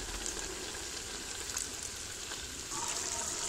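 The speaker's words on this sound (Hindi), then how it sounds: "ऑयल हमने डाल दिया अब हम दो मिनट भून लेते हैं अच्छी तरह से" Half a cup of oil sizzling with cooked tomato paste in a pan while preparing black chickpeas, a steady, fairly quiet crackling hiss that swells slightly toward the end.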